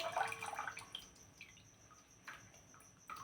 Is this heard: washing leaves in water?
yes